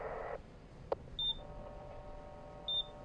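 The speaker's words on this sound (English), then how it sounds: "What is this beeping?" Beeps from a radio device in the survival horror game Expedition Zero, two short high electronic tones about one and a half seconds apart, faint and clean over a quiet background.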